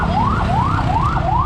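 An ambulance siren from a district hospital in the Philippines wails in rapid rising sweeps, loud and close, over a dense street rumble of traffic.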